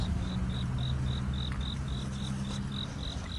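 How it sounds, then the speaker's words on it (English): A cricket chirps steadily indoors at a home estate sale, short regular pulses repeating about three times a second over a low background hum, with no talk. "Hello, cricket."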